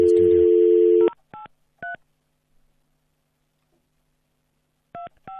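A studio telephone line plays a loud electronic tone that stops after about a second. Separate short dialing beeps follow in two pairs, with a quiet gap between the pairs.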